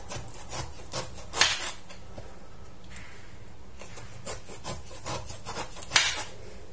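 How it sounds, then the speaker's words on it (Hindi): A knife cuts a jackfruit into round pieces with slow, scraping strokes, a close rasping rub with a couple of firmer cuts standing out. "अब इस तरह से आप उसे कट करते हुए राउंड शेप में हम काट लेंगे।"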